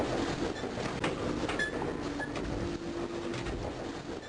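A stuck train in a Doom WAD video game keeps up a steady rail rumble, scattered clanks and a faint sustained tone, moderately loud and continuous with no speech.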